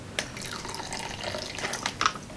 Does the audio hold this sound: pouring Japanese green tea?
yes